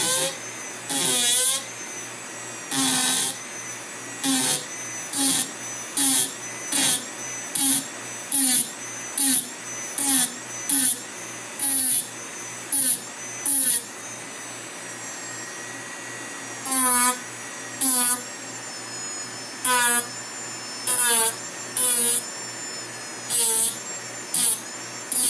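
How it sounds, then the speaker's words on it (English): Rotary tool spinning an abrasive wheel against a metal ring shank to texture it, a high buzzing whine in repeated short bursts with brief pauses between each pass, close and steady. "Apply a light, even pressure, and let the wheel do the cutting."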